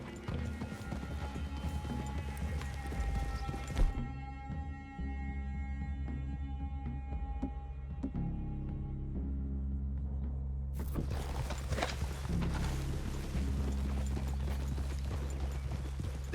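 Horses walk at a steady pace through a clearing in the video game Red Dead Redemption 2, their hooves clip-clopping continuously under a constant layer of game ambience and music.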